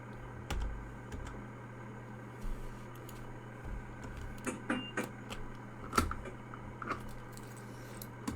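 Soft, irregular keystrokes on a computer keyboard click away close by over a steady background hum, with scattered taps and a few sharper presses.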